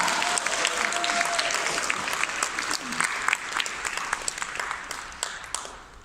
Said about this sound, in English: Give a round of applause to Jeunesse Global.